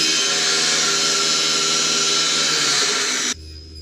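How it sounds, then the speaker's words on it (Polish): A circular saw on a sled cutting through a board, a loud sustained high whine that stops abruptly near the end, leaving a low hum. "Ja to w tej chwili złapię ściskami i nacinamy tą płytę."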